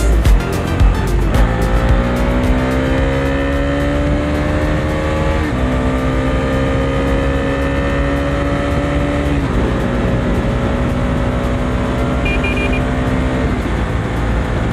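A 2020 Bajaj Dominar 250 motorcycle cruises along an open highway, its engine droning loud and close with steady rising whine through gear changes, wind rushing over everything for the whole stretch.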